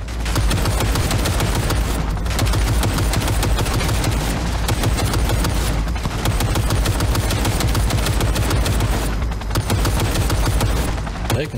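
Relentless turret gunfire in Cyberpunk 2077: a loud, dense, unbroken stream of rapid shots with only brief dips, close and overwhelming, with no voices.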